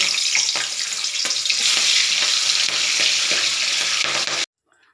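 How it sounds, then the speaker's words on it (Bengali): Prawns coated in salt and turmeric fry in hot oil in a wok, making a loud, continuous sizzle with crackles and stirring scrapes. The sound cuts off abruptly just before the end. "চিংড়ি মাছগুলো একটা একটা করে ভেজে নেব।"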